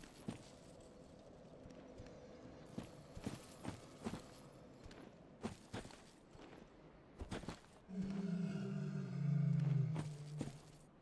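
Horse hooves clip-clop in the Dark Souls 3 video game, sharp repeated hoofbeats in scattered bursts, followed by a louder low groaning drone near the end.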